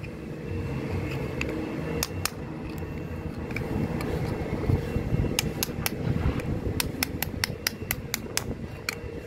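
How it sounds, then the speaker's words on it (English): A chisel chips old fiberglass away from a boat's strut in sharp, irregular taps and cracks, some in quick clusters, over a steady fan-like hum. "chiseling away the old fiberglass so that we can mold a new fiberglass seal to the strut"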